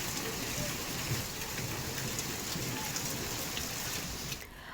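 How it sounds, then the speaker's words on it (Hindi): Steady rain falling during a spell of rain and hail in Uttarkashi, Uttarakhand, a dense continuous hiss of drops on surfaces at moderate level that cuts off abruptly at the end. "कई इलाकों में बारिश और ओलावृष्टि का सिलसिला जारी है।"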